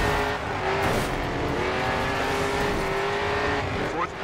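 Race cars roar continuously in the Grid 2 racing game, engine tones whining and shifting pitch up close, with a brief squeal near the end and faint talk under the engines.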